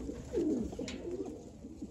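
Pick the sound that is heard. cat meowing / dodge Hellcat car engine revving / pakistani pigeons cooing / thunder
pakistani pigeons cooing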